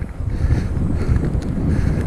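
Steady headwind buffeting the microphone of a cyclist on a cold winter day in Lincolnshire, a dense continuous low rumble with gusty fluctuations and no talk.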